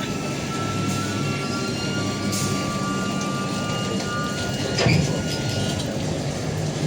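Steady low rumble of a train moving along the track on the Visakhapatnam to Araku line, continuous and fairly loud, with a brief clank or squeal near the end.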